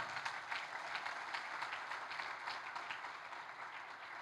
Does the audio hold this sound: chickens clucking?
no